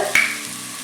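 Urad dal and other chutney ingredients frying in hot oil in a pan, a brief sharp sizzle as they hit the oil, then a steady soft crackle close by.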